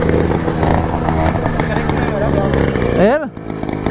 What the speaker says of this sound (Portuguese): Ó o RD ligando.